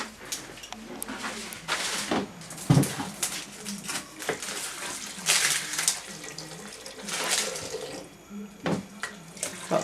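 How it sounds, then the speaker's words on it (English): Water is poured and splashes into a simmering cooking pot, about 300 to 500 millilitres, with uneven gurgles and bursts, close up, over light kitchen background noise. "Then we want to add in some water."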